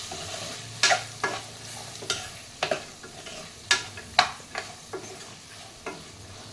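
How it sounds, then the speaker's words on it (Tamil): Instant masala sizzles in hot oil while a spoon stirs it in a pan, with sharp scraping strokes at an irregular rhythm over a low frying hiss and no talking. "எண்ணெயிலே போட்டு ஒரு 2 நிமிஷம் நல்லா கிளறிக்கோங்க"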